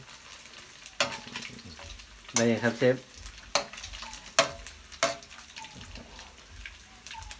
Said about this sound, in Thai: น้ำมันกระเด็นเลย